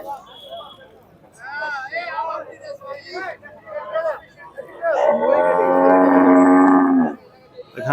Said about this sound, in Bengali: এখানে একটি গরু বসে আছে, দেশাল জাতের